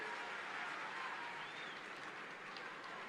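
A crowd at a political rally for Chief Minister Chandrababu claps in a steady, continuous wash of applause that sounds fairly distant and subdued, with no voices over it.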